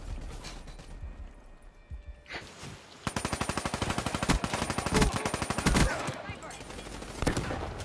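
Sniper and automatic gunfire in the online shooter Black Ops 3, a dense run of rapid, loud shots crackling for several seconds, with brief bursts before and after, under excited voices.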